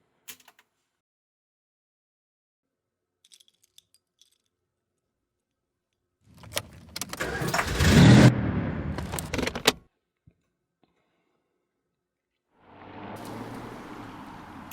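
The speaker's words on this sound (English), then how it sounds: "We have the car door shutting. We have my keys jingling around, so I'm holding them in my hand. We have them going into the ignition." Foley of a car door shutting and keys jingling in a hand, then going into the ignition: a close, sharp burst of clatter and rattling, followed after a pause by the car engine starting.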